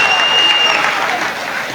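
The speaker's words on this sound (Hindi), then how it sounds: "तो बजाओ सारे एक बार जोर से ताली" An audience claps loudly at a Hindi comedy poetry show, dense continuous applause close by that eases off slightly toward the end.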